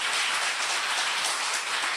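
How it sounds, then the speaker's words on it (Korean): A lecture hall audience claps in thanks, with dense sustained applause that sounds like a rainlike hiss, steady and moderately loud with no voices during it. "우리 조상의 덕에 감사하는 박수 좀 쳐봐요"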